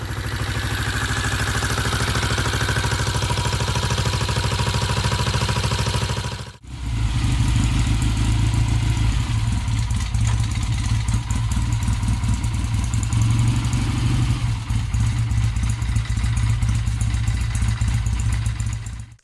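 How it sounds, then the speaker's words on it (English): A Japanese parallel-twin motorcycle engine with a 180-degree firing order runs loud and close, a steady throbbing idle that cuts out briefly, then restarts and revs slightly with mechanical clatter. "Classic Japanese twins with that 180-degree firing order have a quite different feel and sound, as shown here"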